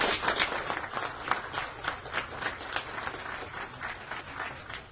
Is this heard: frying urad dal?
no